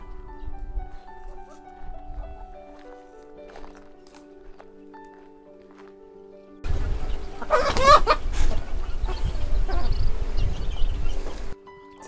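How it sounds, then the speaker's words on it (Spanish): Chickens cluck and squawk nearby in a sudden burst of activity, following a quieter stretch with background music and faint rustling. "Por aquí están las gallinas."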